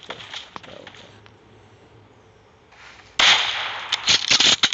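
A sniper rifle shot in the battle-royale game BGMI, a sudden loud broadband blast after a quieter stretch, followed by a dense burst of crackling impacts and echoes.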